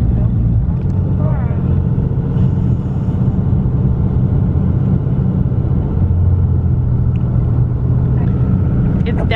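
A car engine hums and rumbles steadily and loudly from inside the vehicle as it drives up a snowy hill, with voices talking over it.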